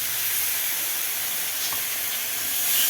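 Turmeric, chilli powder, ginger-garlic paste and tomatoes sauté in a pan with a steady, loud, close sizzle throughout.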